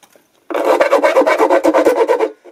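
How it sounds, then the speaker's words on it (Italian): Steel hand file rasping around the rim of a potentiometer hole in a semi-acoustic guitar body, a close, loud run of quick back-and-forth strokes lasting about two seconds after a brief silence. "adesso gli faccio l'invito conico, cioè io vado tutto attorno così con la lima"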